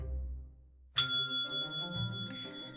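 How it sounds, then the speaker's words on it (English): A bright single bell chime marking a page turn in a read-along audiobook of The Templeton Twins, ringing out clearly after a brief low hum and fading with a sustained shimmer. "When you hear the bell,"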